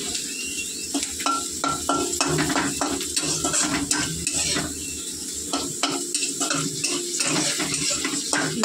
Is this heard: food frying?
yes